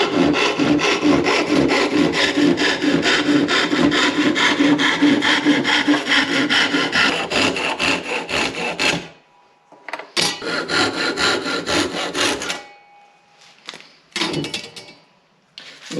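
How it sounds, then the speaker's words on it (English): Hand sawing through clamp pieces held in a vise, a steady fast rasping stroke rhythm for about nine seconds, then shorter bursts of cutting separated by pauses, close and without talk. "Let's throw them in the vise and cut them out."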